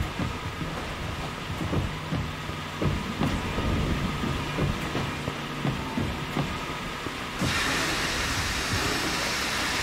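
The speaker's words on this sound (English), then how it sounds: "Okay, I'm gonna go start up the train" A locomotive in the Mafia 2 video game rumbles and clanks steadily as it starts up, with repeated metallic knocks over a continuous low roar and a hiss that swells near the end.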